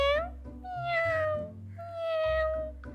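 A cartoon cat meows twice in long, drawn-out cries, clear and upfront over a soft low background, with a little speech-like sound between.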